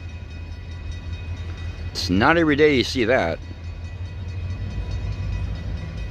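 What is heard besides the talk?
GP38 locomotive stopped at fire department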